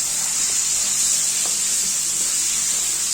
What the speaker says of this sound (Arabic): الكبده يا جماعه مش بتتغسل، بنقطعها ونشوحها على طول